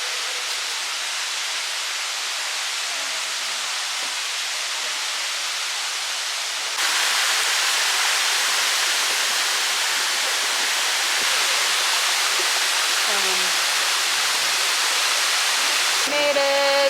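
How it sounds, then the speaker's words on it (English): A waterfall on Kauai, Hawaii roars as a steady broadband rush, growing louder partway through as if approached, with faint sounds near the end. "we're gonna head to the waterfall now"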